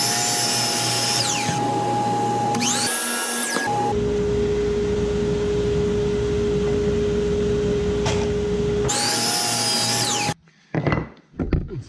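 A track saw cuts a bevel on a wooden apron piece for an A-frame coffee table, its loud steady motor whine running through a long cut, with a brief spin-up and stop before and after it.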